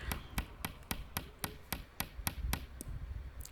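Hammer blows drive nails into hard wood while building a greenhouse, about a dozen sharp, evenly spaced strikes in a steady rhythm, close and alone without talking.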